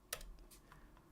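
Fingers tap a few quick keystrokes on a computer keyboard, sparse soft clicks close by in an otherwise quiet room.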